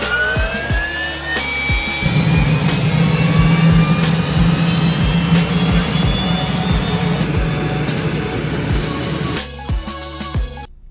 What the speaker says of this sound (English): The turbine is so loud